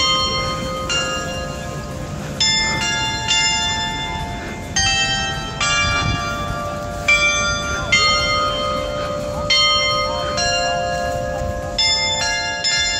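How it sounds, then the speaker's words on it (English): Bells ring in overlapping, sustained peals, new strikes every second or so, with a faint murmur of voices underneath throughout. "It's the first time I hear the bell here."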